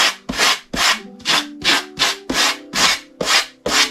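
A cut wooden floor panel for a Renault Trafic van is sanded by hand in about ten steady back-and-forth strokes, each a close, rough, rasping swish with short pauses between.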